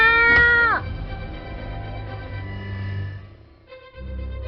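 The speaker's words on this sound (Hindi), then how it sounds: "बिल्ली, तुम पद्दू के पास जाओ" A cat lets out one loud, drawn-out meow, followed by a low steady hum and a fainter tonal sound near the end.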